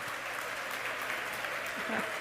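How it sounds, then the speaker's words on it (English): A crowd at Starbase cheers and applauds as the Starship Super Heavy booster lands, a steady wash of clapping and shouting heard from a distance, with a few voices rising above it. "I have a feeling the crowd's about to go wild here."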